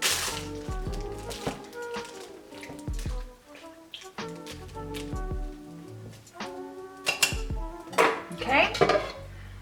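Chicken is stirred in a crockpot for a dump-and-go dinner, with repeated clanks and scrapes of a utensil against the pot and wet, squishing mixing sounds, close and irregular.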